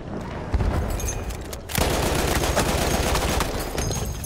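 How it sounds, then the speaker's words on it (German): Battlefield gunfire rattles in fast continuous bursts, with a heavier boom early on and a louder stretch of rapid automatic shots for the last few seconds, dense and close. "Und ich habe voll daneben geschossen."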